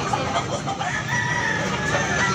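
A one-year-old gamefowl rooster, tall and large-bodied, crows among other chickens in a busy yard, with overlapping clucks and crowing filling the clip at steady, moderate loudness.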